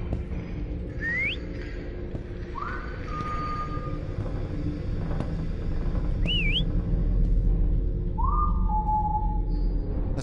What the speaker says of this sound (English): Okay, I hear the whistling.